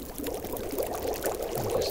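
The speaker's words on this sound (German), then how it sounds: "hier schnell kochen wir unser Wasser" Water boiling in a pot in The Long Dark, a survival video game, gives a steady, continuous bubbling, watery texture at moderate level with no voices over it.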